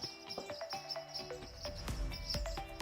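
A flock of white-throated sparrows calls from a bamboo stand, with many short, sharp chips and tweets scattered irregularly throughout, fairly close over a steady outdoor background.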